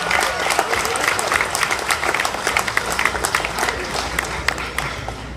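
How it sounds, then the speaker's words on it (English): Sustained applause from a crowd at a boxing press conference, dense clapping at a steady level throughout with a faint murmur of voices underneath. "let's give him a round of applause and wish him good luck"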